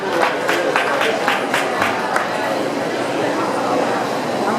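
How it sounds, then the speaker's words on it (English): A crowd at Tipitina's, a New Orleans club, gives a round of applause. Crisp, distinct claps fill the first two seconds, then blend into a steady roar of crowd noise and cheering. "How about a round of applause for Nellie,"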